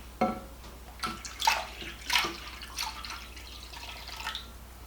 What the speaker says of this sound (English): now I'm going to be pouring 1 cup and 3/4 of cold water